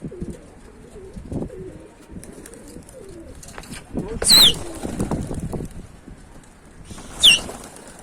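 Pigeons on a rooftop in winter, with brief bursts of wing flapping and faint cooing over a low background murmur, a couple of louder flutters standing out among the quieter activity.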